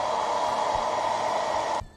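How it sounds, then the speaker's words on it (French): A hair dryer blows steadily at close range, drying brushed-on paint on a plastic model kit, a loud even whoosh that cuts off abruptly near the end. "on repasse un coup de sèche-cheveux."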